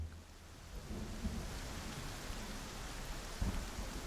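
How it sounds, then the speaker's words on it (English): Steady heavy rain pours in a video game while thunder rumbles low underneath, with a deeper thunder roll near the end; no talking. "Oh, it's raining."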